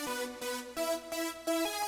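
A synth played in short melodic phrases with chorus and reverb added, bright sustained notes changing every fraction of a second, fairly quiet and alone.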